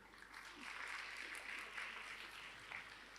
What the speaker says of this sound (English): Let's have a big round of applause once more